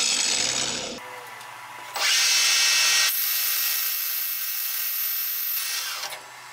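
A thin Mustang engine pulley spun on a lathe while sanded, a steady high whirring rub that starts, surges louder for a stretch, then holds until the motor cuts off near the end.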